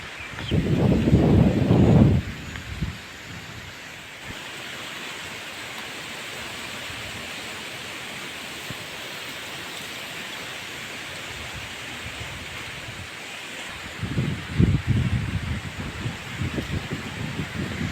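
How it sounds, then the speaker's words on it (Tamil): Strong wind gusts through coconut trees on a farm, a broad steady rushing roar with heavier buffeting bursts at the start and end, likely hitting the microphone. "செம்ம காற்று அடிக்குது தெரியுதா"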